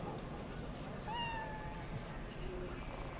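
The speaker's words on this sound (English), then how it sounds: "Kitty cat!" Meowing from a skinless cat in Cyberpunk 2077, a single drawn-out mew rising over steady game ambience, with a fainter second call shortly after.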